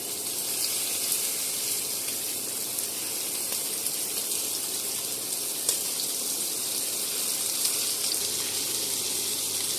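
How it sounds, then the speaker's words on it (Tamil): Fish shallow frying in coconut oil in a pan, a steady, loud, close hiss and sizzle that holds evenly throughout with no talking. "இதனை வந்து நான் தேங்காய் எண்ணெயில் ஷாலோ ஃப்ரை தான் பண்ணி எடுக்க போகிறேன்."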